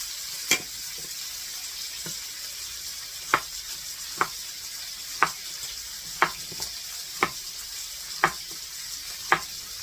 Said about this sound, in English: I should probably stir my meat here.